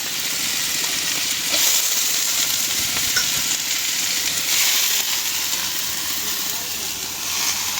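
Bitter gourd and potatoes frying in a pan in a home kitchen give a loud, steady sizzle and hiss that swells and eases as the pieces are stirred, close and continuous.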